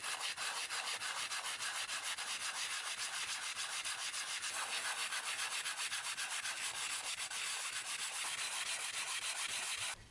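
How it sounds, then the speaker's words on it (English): Light hand sanding of 3D printed PLA sword parts, a close, steady rhythmic scrubbing with quick even strokes running without pause for about ten seconds. "Again, just sanded that lightly"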